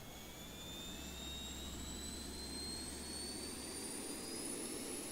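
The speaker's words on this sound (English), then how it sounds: "Our tailpipe is whistling." Zibo 737-800 APU in X-Plane 12 whistling from the tailpipe, a steady high whine that slowly rises in pitch over a constant low rumble, loud and continuous with no talk.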